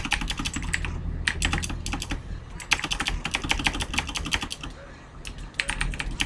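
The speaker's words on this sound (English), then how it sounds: "Don't mind me, I am just swapping my keyboards." Rapid typing on a computer keyboard during a game session, with dense bursts of sharp key clicks in an irregular rhythm, close and fairly loud, with a few brief pauses.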